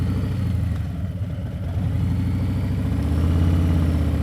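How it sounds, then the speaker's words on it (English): Motorcycle engine running at low speed during slow-speed riding practice, a steady close rumble with a throbbing low beat that rises slightly in pitch near the end as the throttle opens. "Listen to that engine."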